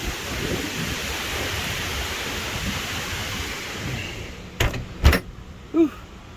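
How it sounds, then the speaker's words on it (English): A 70 mph wind storm with rain lashes an RV, a dense, constant roar of wind and rain followed near the end by a few sharp knocks and thumps, likely a door banging. "Well, I'm gonna ride this storm."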